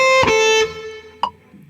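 Picked guitar notes ring out in a quick burst, a couple of bright attacks close together followed by a sustained decay and one more pluck, played alone with no talking.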